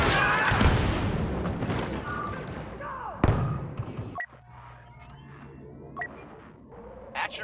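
A grenade going off in Star Wars Battlefront 2, a loud booming blast with a sharp burst midway, followed by quieter battle sounds and brief voices.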